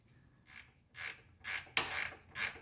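A ratchet tightens the bolt on the bottom shock absorber bushing of a 1985 Surf wagon's front suspension, giving five sharp clicking bursts spaced about half a second apart, close and loud with near silence between strokes.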